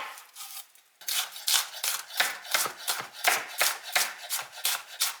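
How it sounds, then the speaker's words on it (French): A knife chops a shallot on a cutting board, a quick series of rhythmic crisp strikes after a short pause, close up with no talking. "Ensuite je m'occupe de hacher une échalote"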